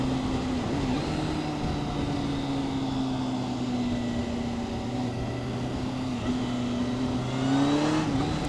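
A Kawasaki Concours 14 ABS touring motorcycle accelerates on the road, its engine drone rising steadily in pitch under wind rush, heard from the rider's position and continuous throughout with no talking.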